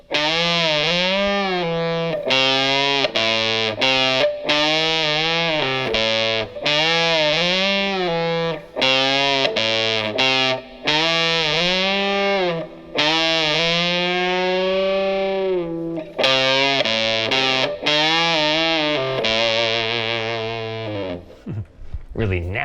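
A heavily distorted electric guitar plays a slow, nasty solo, with long sustained bends and releases in continuous phrases, loud and close with no talking.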